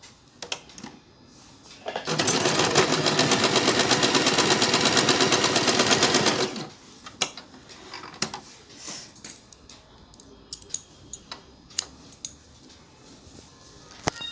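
A sewing machine runs in one continuous burst of rapid, even stitching for about four seconds, reinforcing the seams of elastic-waist bloomer pants; quiet clicks and handling taps come before and after.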